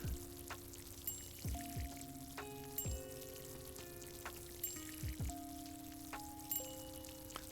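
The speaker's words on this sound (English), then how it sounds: "I'm only going to water until I run out of water" Water poured onto plants in the Plant Nursery Simulator video game, a run of short splashing pours with gaps between, alongside musical tones.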